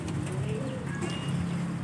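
A soft, low cooing from a zebra dove or spotted dove, repeated in a steady rhythm, heard close by against a light background hiss.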